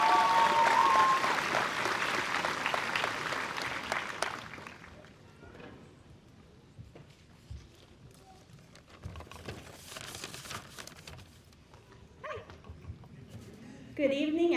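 Audience at a summer graduation ceremony applauds the graduation speaker, loud clapping for about four seconds that fades out, followed by quieter room noise, voices and a few scattered sounds.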